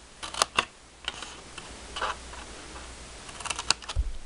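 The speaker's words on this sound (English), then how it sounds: "you're going to want to take a pair of scissors and you're going to want to cut up these little lines down here" Scissors snip small flaps into paper for a box: scattered crisp clicks and short snipping bursts, close and fairly quiet, spaced irregularly with quiet gaps and a soft thump near the end, and no one speaking.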